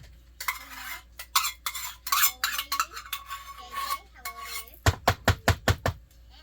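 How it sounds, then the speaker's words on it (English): A spoon stirs spinach and sour cream soup mix with mayonnaise in a bowl: irregular scraping strokes, then a quick run of sharp, rhythmic clinks against the side, close and clear. "Spinach and sour cream soup mix, mayonnaise, yeah, and mix it."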